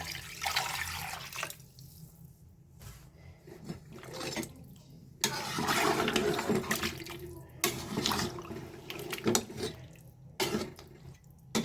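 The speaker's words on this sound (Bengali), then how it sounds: "এখন হচ্ছে পানি দিয়ে দেবো পরিমাণ মতো।" Water poured from a container into a pot of meat and partly boiled potatoes, a close, splashing stream that runs in bursts with brief pauses, alone without talk.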